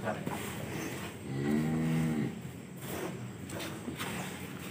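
Cattle moo in a newly built pen holding about 43 cows, with one drawn-out, loud low moo in the middle among background barn noise and faint talk.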